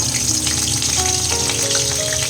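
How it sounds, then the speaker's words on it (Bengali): Cauliflower deep-fries in oil for a vegetable pickle, giving a loud, dense, steady sizzle and bubbling close up, with no speech over it. "ফুলকপিটা শুরু করছি ভাজা"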